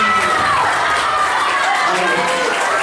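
An audience, including children, applauds and cheers loudly for a participant named Dipanggil after a short film about bullying, a continuous noisy burst of clapping and crowd shouts.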